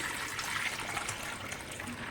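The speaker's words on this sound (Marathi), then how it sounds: "तर आता आपण त्याच्यात 3 पट पाणी घालून घेणार आहोत" Water streams from a bowl into a pot for making jowar papad dough, a steady soft gushing pour with no pauses, close by and fairly quiet.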